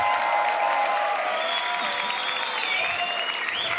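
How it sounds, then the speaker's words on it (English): A beatbox battle audience applauds loudly and steadily, with dense clapping and some whistles and cheers from the crowd and no pauses. "Make some noise for Ibarra as well"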